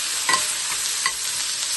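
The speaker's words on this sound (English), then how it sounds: "It is sizzling in here tonight" Close, steady sizzling of burgers frying in a pan, a bright hiss broken by a few quick crackles and pops.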